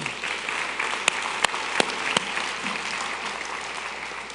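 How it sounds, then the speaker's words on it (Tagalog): A church congregation claps during a service, a steady wash of applause at moderate level with a few sharper individual claps standing out near the start. "pumalakpak ng malakas"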